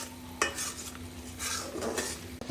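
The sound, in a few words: sautéing prawn malai curry masala in pan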